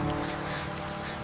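Heavy rain falls in a dense, steady hiss of countless drops, loud and continuous with a low hum beneath and no pauses.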